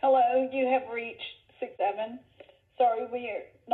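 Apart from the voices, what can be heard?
No distinct noise like a dog, phone or traffic.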